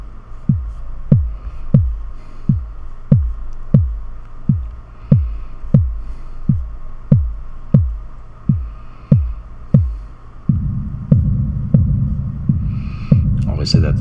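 Electronic kick drum hitting in a steady four-on-the-floor pulse, each deep thump given a punchy attack, with side-chain compression and a reverb tail; a sustained low bed swells in near the end.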